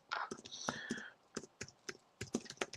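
Rapid, uneven clicks of keys on a computer keyboard, close and fairly quiet, coming in short bursts with brief pauses, with soft whispery voices faintly underneath.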